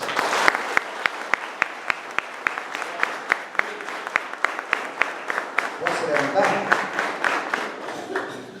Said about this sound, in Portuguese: Vamos louvar o Senhor com palmas.